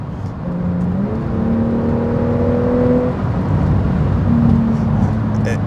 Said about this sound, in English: This growl that comes out of this car.